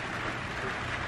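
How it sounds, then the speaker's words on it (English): Rain pattering steadily on a metal carport roof, a dense continuous clicking patter that fills the short stretch at an even level with no talk over it. "The carport has like a metal roof and it makes like the best little clickety clack sounds, the rain."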